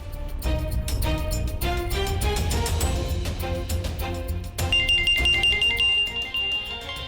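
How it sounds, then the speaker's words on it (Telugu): A musical ringtone plays continuously, a bright melodic tune with steady beats, loud and close, without any talking. "ఇదిగో అభి వాళ్ళ నాన్నమ్మ ఫోన్ చేస్తున్నారు."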